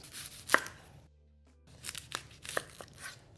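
A kitchen knife slices the ends off an onion for a summer veggie pizza, giving a few close, crisp cuts: one sharp chop early, then a gap of silence, then several lighter slicing strokes with no talking.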